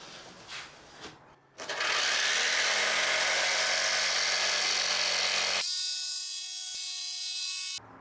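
After some quiet shuffling, a jigsaw cuts wood along a fence while building a trapezoidal bass case. The motor rasps loud and close for several seconds, shifts to a higher, steadier whine, then stops abruptly.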